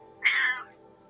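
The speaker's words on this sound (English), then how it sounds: "I'm getting complained at by the cat." A single house cat lets out one drawn-out complaining meow, close and clear against a quiet background.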